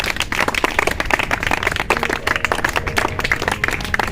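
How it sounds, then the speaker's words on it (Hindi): A classroom of children claps together without stopping, producing dense, uneven applause that stays loud and continuous from start to finish. "आप क्लैपिंग शुरू कीजिए"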